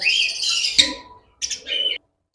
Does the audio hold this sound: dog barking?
no